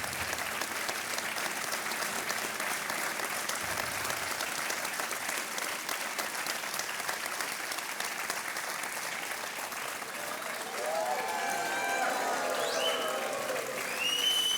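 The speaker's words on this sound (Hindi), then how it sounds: "और तालियां बजती रहनी चाहिए देवी और सज्जनों" Studio audience at a televised quiz show breaks into sustained, steady applause that fills the whole stretch, clapping dense and even with a slight swell near the end.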